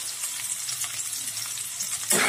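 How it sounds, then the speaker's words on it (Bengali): Chopped carrots and potatoes fry in a pan over medium heat, giving a steady, close sizzle and crackle that swells into a louder burst near the end. "এখন এর মধ্যে দিয়ে দিচ্ছি গাজর কুচি ও আলু। এটাকেও আমি মিডিয়াম আঁচে তিন থেকে চার মিনিট ধরে খুব ভালোভাবে ভেজে নেব।"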